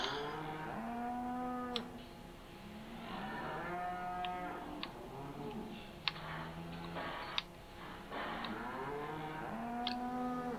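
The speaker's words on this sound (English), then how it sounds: "I do wish that cow sound wasn't so frequent" Cattle mooing repeatedly in the farming game Farming Simulator 15 on the Coldborough map, several drawn-out lowing calls that overlap across the stretch with light clicks between them and no talking.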